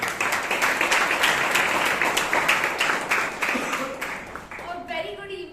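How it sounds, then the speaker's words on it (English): Steady rhythmic clapping from a modest Toastmasters meeting audience, fairly close, dying away near the end as a voice begins speaking. "Please give a big round of applause to Rashi Palgota"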